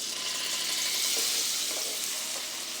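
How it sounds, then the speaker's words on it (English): Pork chops sizzle and crackle steadily in a pan of piping hot oil and melted butter, a loud, dense, continuous frying hiss with no talking. "give these pork chops about 5 minutes frying on each side in this piping hot oil"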